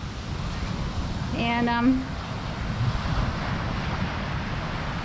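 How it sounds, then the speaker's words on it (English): Ocean surf rolls steadily onto a remote beach at the end of golden hour, a continuous wash of waves with wind buffeting the microphone and a brief voice partway through. "we're enjoying a little ocean time"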